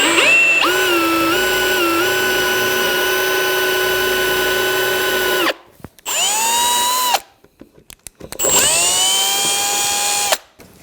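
A power drill drilling into wood whines loudly at high speed, drilling continuously, then stops and restarts in two shorter bursts with brief silences between.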